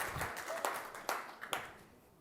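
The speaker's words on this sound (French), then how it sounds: "On les applaudit, s'il vous plaît." A few people at a festival closing ceremony clap sparsely, with scattered distinct claps at an uneven rhythm, faint and somewhat distant.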